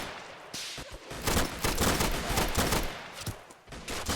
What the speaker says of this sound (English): now they're being shot at